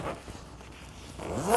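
Ski pants worn as a flight suit for an open-air cockpit trike are zipped down, a short close rasping zip that builds toward the end, heard alone without talk.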